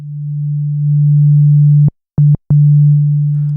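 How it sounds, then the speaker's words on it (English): A pure, steady low sine tone from the sub-oscillator of an Arturia Oberheim SEM V synthesizer hums continuously, briefly cutting out twice in quick succession before resuming. "first on a sine wave coming from the sub-oscillator."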